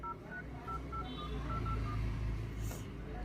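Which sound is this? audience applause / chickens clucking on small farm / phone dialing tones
phone dialing tones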